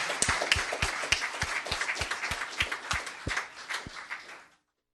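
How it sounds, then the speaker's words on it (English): Applause at a town council meeting: a brief burst of claps close by, sharp, fairly regular and spaced, fading out after about four seconds with no talking. "One more round of applause for this special man."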